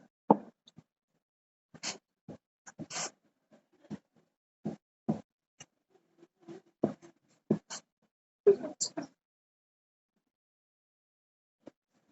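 Pen or chalk writing out a mathematics formula, a quiet series of short scratchy strokes and taps in irregular bursts with gaps, close by, then falling silent.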